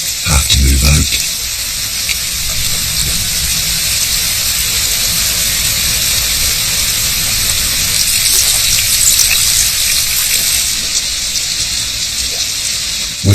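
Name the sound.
storm with rushing water in the Congo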